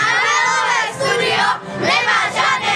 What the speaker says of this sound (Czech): můžete zakřičit ještě jednou svůj pokřik